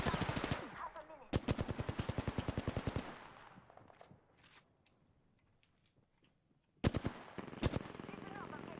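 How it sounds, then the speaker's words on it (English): Rapid automatic gunfire in the Apex Legends video game comes in loud, close bursts, then pauses for scattered single shots and quieter clatter before another sharp burst, with some game voice in the mix. "Listen up, I'm getting shot at."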